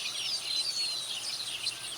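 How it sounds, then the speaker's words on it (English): Loud, dense birdsong fills the air with continuous high chirps and tweets, many birds calling at once close by with no pauses. "Am I the only one hearing birds? they're really loud, these birds."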